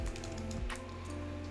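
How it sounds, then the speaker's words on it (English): Quick taps on a computer keyboard come in a short burst of soft clicks, close by and fairly faint under a steady background hum, with no talk. "So I'll just hit enter after typing that in."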